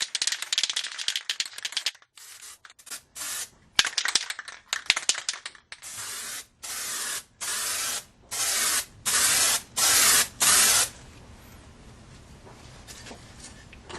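A spray can lays a light mist of white paint in a series of short, even hissing bursts, close and fairly loud, preceded by can rattling and handling clatter and followed by quieter rustling.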